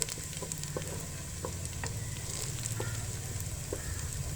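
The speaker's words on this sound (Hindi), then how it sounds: "यहाँ पे लो फ्लेम पर हम जो है प्याज को पका रहे हैं" Onions frying low and steady in oil for a tadka on a low flame, with soft continuous sizzling and faint scattered crackles.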